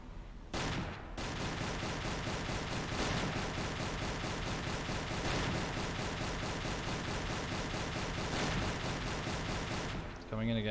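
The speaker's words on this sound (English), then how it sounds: "No, it's definitely AA that I'm firing" An anti-aircraft flak gun in Silent Hunter III fires a long, rapid, evenly spaced string of loud heavy shots, continuous for about ten seconds before cutting off, with a voice briefly audible at the end.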